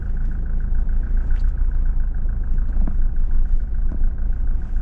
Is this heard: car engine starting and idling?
yes